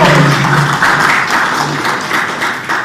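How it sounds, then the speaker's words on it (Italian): A crowd gives a loud, brief burst of applause for the GLS company representative at a charity walking event. The clapping is dense and close and lasts about three seconds. "un applauso grande a te"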